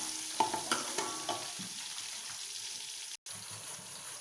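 Ginger and garlic paste frying in a pan, a soft steady sizzle with a few clinking stirs early on and a brief break near the end, close and fairly quiet.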